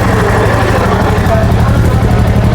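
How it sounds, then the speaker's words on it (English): Royal Enfield Goan Classic 350 motorcycle engine running steadily at close range, a loud continuous low thump with people talking over it. "इस बाइक को start and let's hear the sound"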